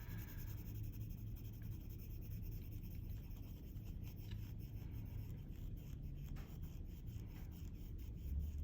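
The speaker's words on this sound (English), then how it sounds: "And then I'm going to slowly blend in and you want to make sure that your pencils are sharp." A colored pencil blending slowly on paper, with a steady, close, soft scratching and rubbing that runs unbroken and alone.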